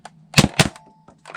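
A Nerf blaster test-fired indoors gives two quick sharp pops close together, each with a brief mechanical clack, followed by a faint click.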